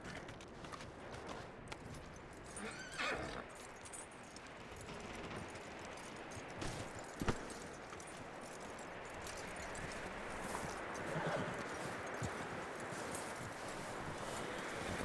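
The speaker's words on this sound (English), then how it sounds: "That looks like a decent horse." Horse hooves clip-clop at a steady walking pace in Red Dead Redemption 2, set against a constant bed of outdoor game ambience with a few sharper knocks; no clear neigh stands out.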